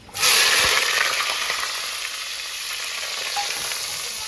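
Onions drop into hot oil for a chicken curry with a sudden loud sizzle that settles into a steady, crackling fry and keeps going without pause.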